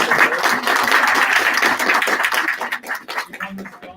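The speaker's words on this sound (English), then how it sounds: "Big round of applause for her." Applause from an audience at a school board meeting, a steady burst of clapping for a spelling bee champion that holds for a few seconds and then thins out.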